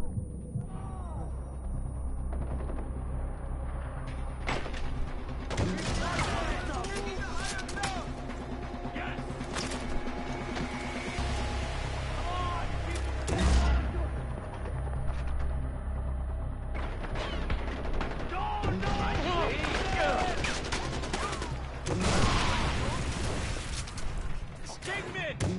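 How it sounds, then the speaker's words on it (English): In the video game Far Cry 4, an ammo crate blows up when shot, one of several booming blasts and gunfire bursts over a thick game soundscape, with voices talking throughout. "If you shoot an ammo crate, it blows."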